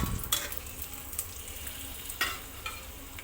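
Dried red chillies sauté in oil in a pan for dal, a soft steady sizzle with a few light stirring scrapes, close and fairly quiet, no voices.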